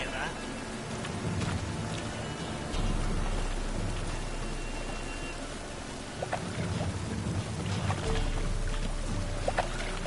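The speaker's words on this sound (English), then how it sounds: "Rain like this would fetch a fortune in Zerrikane." Steady rain pours in a stormy scene from the video game The Witcher 3, with low rumbles of thunder swelling twice beneath the constant hiss.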